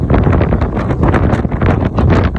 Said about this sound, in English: Today is very windy